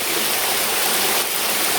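A forest stream spills down near a waterfall, making a steady, loud, close rushing wash of water with no voices.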